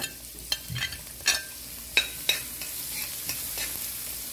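Onion and garlic frying in a pan, with a low, faint sizzle broken by several sharp clacks and scrapes of a spoon stirring, close by and without talk.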